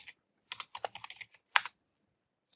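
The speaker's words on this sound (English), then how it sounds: "let me type VMware and let me type" Quick bursts of keystrokes on a computer keyboard, close and clear, a short flurry of clicks then a pause and a second brief cluster, with no talking.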